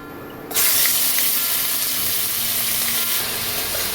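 Chicken pieces hit a pan with only a little oil and burst into a loud, sudden sizzle that then holds as a steady, close hiss of frying.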